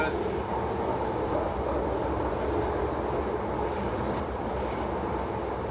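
A London Underground train rumbles steadily at close range, a continuous rolling roar with a brief high hiss at the start and faint squeals.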